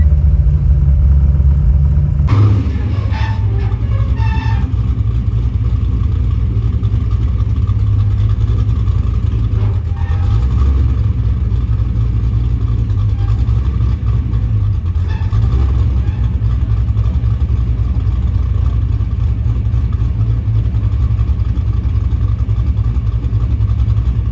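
An LS3 V8 swapped into a drift FRS, battery running low, idles loud and close with a steady deep rumble and small throttle blips, after a brief louder burst at the start.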